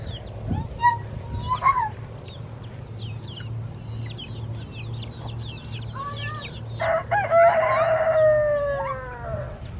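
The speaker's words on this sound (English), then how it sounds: "One of these chickens is not like the other." Several chickens cluck and chatter nearby while a rooster crows loudly near the end, over a low steady hum.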